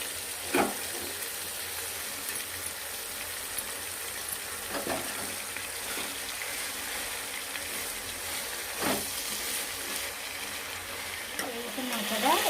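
Drumstick leaves frying in a pan with tomatoes, peanuts and a pinch of asafoetida, giving a steady soft sizzle with a few brief stirring scrapes.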